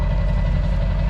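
A Polaris SL750 jetski engine runs steadily after starting, a continuous loud low rumble with an even idle throb and no gaps.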